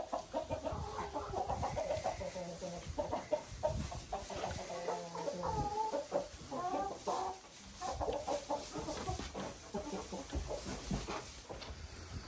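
Hens cluck continuously inside a homestead chicken coop in winter, several birds close by in a busy, overlapping chorus with occasional louder squawks.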